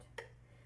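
Two crisp metronome clicks, evenly spaced about half a second apart, faint and dry over a low steady hum.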